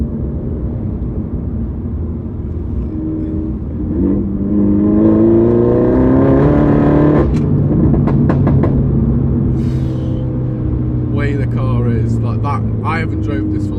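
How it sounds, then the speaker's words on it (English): Engine of a 2015 Mini Cooper S F56 in sport mode, revving up once with a rising throttle blip, then settling to a steady drone, heard from inside the car with a voice talking partway through. "I'll give you a little bit of a blip on the throttle."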